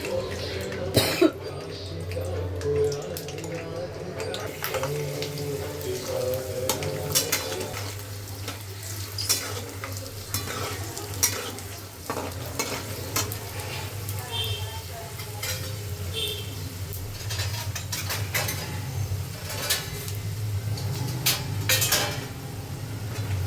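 Peanuts roasting in oil in a hot kadai: a steady low sizzle with repeated scraping stir strokes and occasional sharp clinks of the spoon against the pan, plus a brief cough early on.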